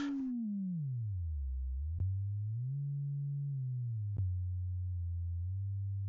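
A steady synthesizer tone, one note held, whose brightness sweeps down, then up, then down again as the filter cutoff moves, with two faint clicks along the way.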